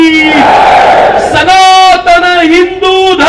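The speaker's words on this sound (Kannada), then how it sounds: "ಒಂದ್ಸಲ 2 ಕೈಗಳನ್ನ ಗಾಳಿಗೆ ಬೀಸಿ ಉಚ್ಚಕಂಠದಲ್ಲಿ ಜೈಕಾರ ಕೊಡಿ" A crowd at a religious rally shouts victory chants in unison, loud drawn-out voiced cries repeated in several swells, close and powerful.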